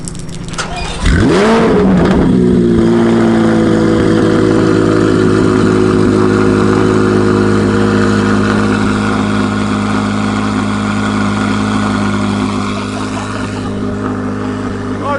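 Chevrolet Corvette C8 Z06 fitted with Darkstar equal length headers, much louder than stock, starts up with a sharp roar and then holds a loud, close, steady idle.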